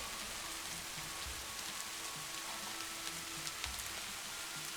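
Steady soft rain in the video game Plentiful, a faint, even hiss of drops on a surface that runs the whole time with a few low thumps underneath and no voices.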